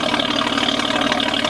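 A rebuilt engine from a Marine City, Michigan shop idles with a dense, steady low growl, close and continuous, with no talking.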